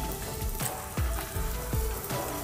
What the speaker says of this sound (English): Yeah, we're getting some sizzle in there.